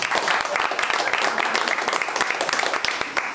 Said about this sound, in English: You should clap for them too.